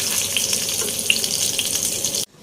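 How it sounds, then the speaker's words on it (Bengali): Hilsa fish pieces frying in hot oil: a steady, dense crackle and sizzle held close and fairly loud, ending abruptly. "হালকা ভাজা হয়ে গেছে, তো আমি মাছগুলোকে এখন উঠিয়ে ফেলবো।"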